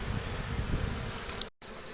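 Honeybees at an open hive frame on a warm April day give off a close, continuous buzzing hum that drops out briefly near the end before resuming.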